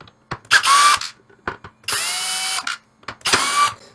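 A power screwdriver backs screws out of an arcade control deck bracket in three separate bursts of high motor whine, each under a second long, with clicks and handling taps between them and no talking.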